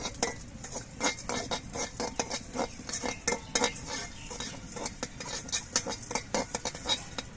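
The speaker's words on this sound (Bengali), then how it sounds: "মশলাটা ভাজার সময় অনবরত নাড়তে হবে আর খুব অল্প সময়ের মধ্যে কিন্তু মশলাটা ভাজা হয়ে যাবে" Spices frying in a pan for a Bengali fish-head chhechra dish while being stirred constantly, heard as rapid close scraping and clinking of a utensil against the pan over a faint sizzle, with no talking.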